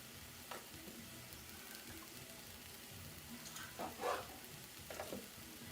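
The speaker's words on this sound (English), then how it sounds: "Starting to sizzle real nice. You can hear it." Faint, steady sizzling of food frying in a pan, with occasional soft pops and clinks of a utensil.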